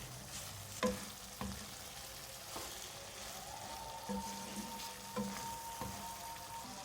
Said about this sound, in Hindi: मिक्स करेंगे इसको।